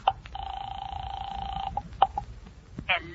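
A 1940s radio-drama telephone effect: a long steady tone followed by a few short clicks and beeps, close and clear, with no voices.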